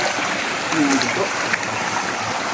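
Strong, continuous rushing of a flowing stream, a dense steady roar of water close by, with a faint voice briefly under it.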